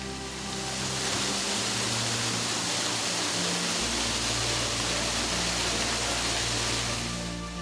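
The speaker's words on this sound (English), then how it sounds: "This 33-foot-tall waterfall is named after them." A 33-foot-tall waterfall in the Arkansas Ozarks pours with a steady, loud broadband rush that holds unbroken throughout, close by and alone with no voices.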